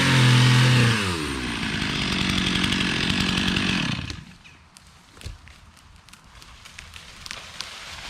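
Chainsaw cutting buckthorn during land clearing, roaring loudly at full throttle for about four seconds, then dropping to a rough idle with scattered cracks and rustling.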